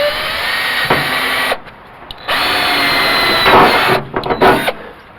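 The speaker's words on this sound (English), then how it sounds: "I'm just going to take a drill bit, put in 3 little holes" A power drill bores holes in the interior of a 1980 Dodge D150 pickup, whining loudly and close in two long bursts, separated by a pause, then followed by shorter stuttering bursts.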